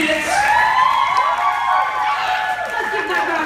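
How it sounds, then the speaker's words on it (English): A live Double Dare show audience claps and cheers loudly and steadily, with children's shouts and whoops running through the dense crowd noise from start to finish. "let's give one more round of applause for your Double Dare champions"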